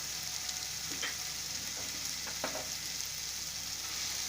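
Spices for dal tadka fry in a pan with garam masala, giving a steady hissing sizzle throughout, broken by a few soft clinks of stirring.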